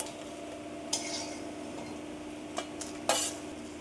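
Black cumin seeds fry in a wok with a steady, low sizzle, broken by a few sharp metallic clinks of a utensil against the pan.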